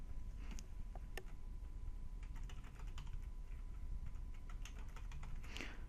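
Keys clatter on a computer keyboard as a folder name is typed, a quiet, close run of irregular clicks with no voices.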